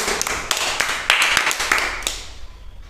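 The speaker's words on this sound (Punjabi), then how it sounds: "ਤਾਲੀਆਂ ਮਾਰੋ ਸਾਰੇ ਬੱਚੇ" Children clap in a classroom during a Punjabi reading lesson, a quick irregular patter of small hands close by that thins out and fades over a few seconds, with no voices over it.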